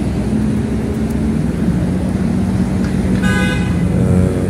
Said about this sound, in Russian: Поток машин, внизу трубы.